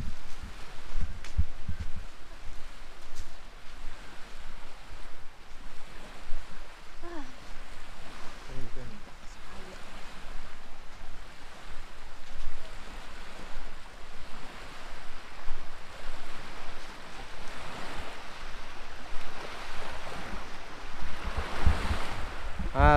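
Lake waves lap at a sandy shore on Lake Poso, Indonesia, a steady, fairly loud wash of water mixed with gusty wind rumble across the microphone, building slightly toward the end.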